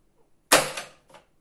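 A single sharp knock with a quick decaying rattle as a wireless alarm keypad is unclipped, followed a moment later by a softer second tap, close and fairly loud.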